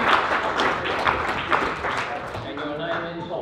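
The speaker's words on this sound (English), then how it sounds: "Give him a round of applause." An audience at a live science show at the Adelaide Mini Maker Faire 2015 applauds a volunteer with a dense burst of clapping that tapers off as a voice comes in.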